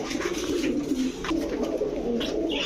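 Teddy pigeons at a pigeon shop giving continuous low, throaty cooing, close and fairly loud, with faint background rustle and no speech.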